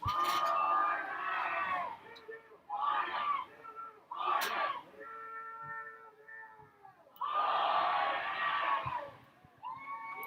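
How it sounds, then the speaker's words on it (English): Hilldale fans cheer and shout at a boys' soccer playoff semi-final against Clinton, bursts of crowd noise rising and falling over several seconds under a commentator's voice. "Can you hear that crowd out there, folks?"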